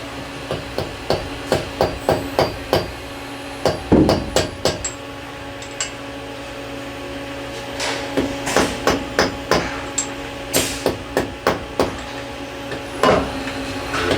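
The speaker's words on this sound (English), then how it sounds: "I'm going to tap this one around with another block of aluminum" A machine part is tapped with a block of aluminum, giving a series of sharp, regular metallic knocks in short runs, with a steady machine hum underneath and a few louder clanks.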